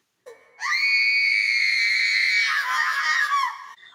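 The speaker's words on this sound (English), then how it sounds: "I let out my biggest, longest, loudest scream yet." A woman in an audio drama set on Skull Island lets out a long, loud, high scream that holds steady for about three seconds, then wavers and cuts off.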